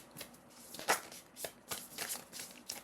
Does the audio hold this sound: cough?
no